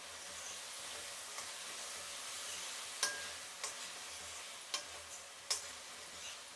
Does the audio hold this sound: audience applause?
no